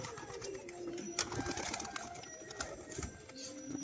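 Flying pigeons kept for sale coo softly and low in the background, faint repeated throaty calls against a quiet, hissy room.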